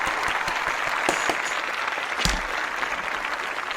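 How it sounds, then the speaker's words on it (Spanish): An audience claps loudly and steadily at a talk, dense crowd applause with a few sharper individual claps standing out, sustained for nearly four seconds. "a todos os pido un fuerte aplauso"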